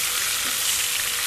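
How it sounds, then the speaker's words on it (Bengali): Marinated chicken for biryani fries in hot oil while being stirred, a loud, dense sizzle with soft scraping movement over about a second. "এখন সেই ম্যারিনেট করে মুরগিটা দিয়ে আমি একটু এইভাবে নেড়ে চেড়ে ভেজে নেব"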